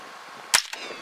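A single sharp gunshot fired at a rabbit during a nighttime spotlight hunt cracks out close and loud, followed by a brief echo and quiet outdoor background.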